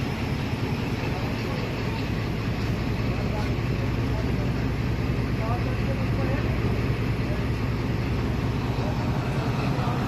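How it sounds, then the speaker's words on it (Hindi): A Chinese-built ZCU diesel locomotive of Pakistan Railway rumbles steadily at night, a constant dense mechanical roar with a low throb and no clear pauses. "ZCU की चगिंग साउंड बहुत ही कमाल की है।"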